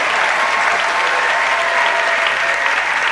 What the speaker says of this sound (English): Can we give them a big round of applause and say to them, congratulations?